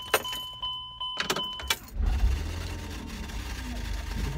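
A car starts rolling with a low engine rumble and road noise after a few knocks and rattles inside the cabin, close and steady once underway, with people talking nearby.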